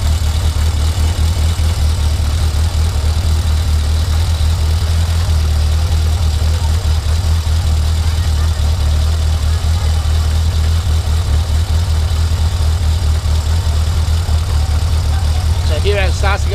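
A Yamaha XS1100 motorcycle engine idles in a steady, loud, low rumble that stays constant from start to finish, close by.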